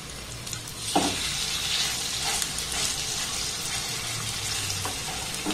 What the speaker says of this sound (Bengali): এইভাবে একটু ছোট বড় করে সবগুলোকে আমি সুন্দর করে ভেজে নেব।